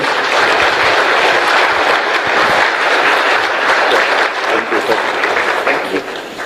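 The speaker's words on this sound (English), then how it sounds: "Let's clap for him." Stakeholders at the IEBC forum applaud the outgoing chairman with loud, dense clapping that holds steady for several seconds before thinning slightly near the end.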